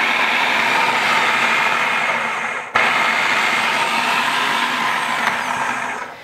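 A food processor runs steadily as it blends chickpeas for a veggie burger, a loud continuous whirring grind with a brief cut near the middle, no talking.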